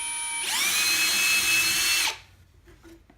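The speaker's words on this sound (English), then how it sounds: "obviously this didn't drill quite as deep as the other one, because I've had to go through this wood as well" A power drill spins up and bores through wood on a baby's cot being converted into a child's bed, with a loud, close whine that runs about two seconds and then cuts off.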